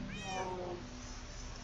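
A kitten meows in a Minecraft game on Xbox 360, a single quiet rising-and-falling cry over a steady low hum, with no talking.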